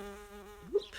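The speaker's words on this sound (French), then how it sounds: "il y a une belle abeille qui vient de passer devant moi" A bee flies close past outdoors, a brief buzzing drone that bends upward in pitch as it passes, alone over quiet background.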